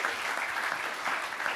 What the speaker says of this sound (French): Je propose qu'on applaudisse Gabriel et Antoine.